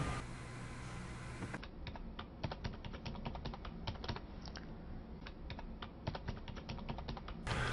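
Someone types a password on a computer keyboard, a close run of quick, uneven key clicks with brief pauses, set against a quiet background.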